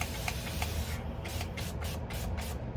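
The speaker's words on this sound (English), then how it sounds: "give this guy a quick spritz" A spray bottle gives a grow pod several quick spritzes, with short airy hiss bursts repeating at an irregular pace close to the mic and no talk.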